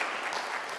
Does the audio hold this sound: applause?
yes